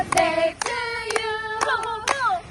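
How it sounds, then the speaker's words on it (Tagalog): Hand claps at a home birthday party, a few sharp claps spaced irregularly through a sung birthday tune, with voices carrying the melody over them. "Palakpak tayo."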